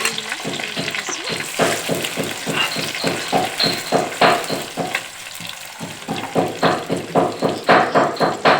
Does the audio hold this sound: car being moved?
no